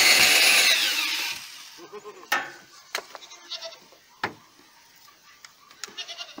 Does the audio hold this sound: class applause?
no